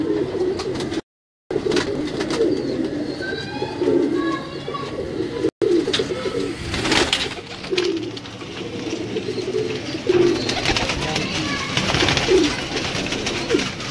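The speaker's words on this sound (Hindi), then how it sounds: "ये उस्ताद यूसुफ सुबानी साहब के कबूतर हैं, ग्रे गोल्ड," Grey gold and grey diamond pigeons belonging to a Lahore fancier coo steadily in a loft, several birds overlapping in low rolling calls with faint chirps and a brief dropout in the sound.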